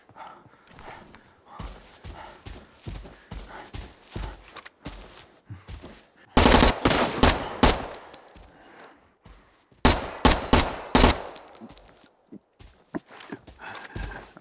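Gunfire in the video game Arena Breakout, with two loud bursts of shots breaking through quieter footsteps and movement, heard up close during a solo match.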